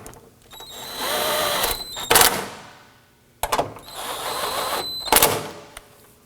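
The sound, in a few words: impact driver tightening bolts on a car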